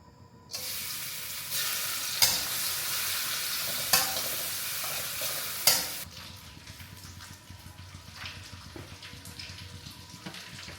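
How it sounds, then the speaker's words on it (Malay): Steady loud sizzling of meat frying in a hot pan, with a few sharp clatters of a utensil, then the sizzle drops quieter and continues. "Baru nak goreng daging."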